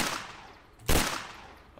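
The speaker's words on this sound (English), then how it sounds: "An explosion goes off every time I shoot." A gunshot with an accompanying explosion in the Roblox game Apocalypse Rising, one sharp loud blast with a short decaying tail, following a fading earlier report.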